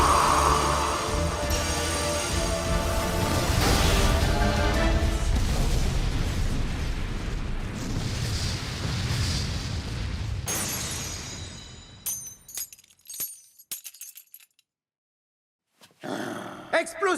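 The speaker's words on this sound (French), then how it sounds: "Explosion simultanée!" A loud, roaring cartoon explosion from a Beyblade Burst Turbo spinning-top battle rumbles for several seconds, then cuts to near silence broken by short sharp bursts.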